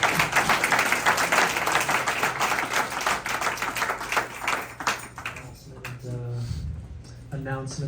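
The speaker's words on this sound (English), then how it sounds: "let's give Mike and Sandy a big round of applause" An audience at a kava bar claps for two guests, dense rapid applause under an amplified voice, thinning and fading out toward the end.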